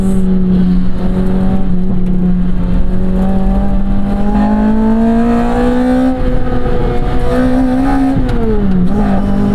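Lotus Elise engine revving up toward its 8,500 RPM redline, a loud, steady, rising mechanical howl that climbs in pitch across several seconds with a brief dip near the end, close and continuous.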